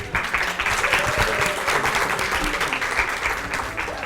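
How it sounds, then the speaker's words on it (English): A conference audience claps in a steady, dense burst of applause that lasts several seconds at moderate loudness, with no talk over it. "So can we give a round of applause to the interpreters"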